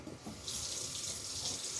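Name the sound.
water filling a roasting pan for pork shoulder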